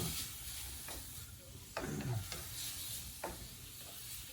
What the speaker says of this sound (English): Just kind of stir it till the redness gets out of it.